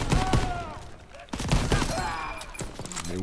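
Rifle gunfire in the World War II shooter Call of Duty WWII during a bunker-clearing fight, with several loud sharp shots in quick bursts and someone talking in between.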